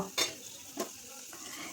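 Potatoes being stirred and fried in a pan: two quick scraping strokes of a utensil against the pan over a soft, continuous sizzle, close and fairly clear.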